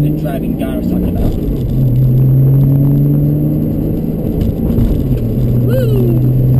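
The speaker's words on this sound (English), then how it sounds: "That window's pretty loud." Loud, steady wind roar from an open window of a moving manual car, with a low engine drone underneath that shifts slightly in pitch as the car drives on.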